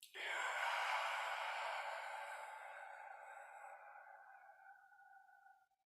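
A long, steady exhale straight into an unfiltered microphone, close and breathy, swelling quickly and then fading gradually over several seconds until it stops.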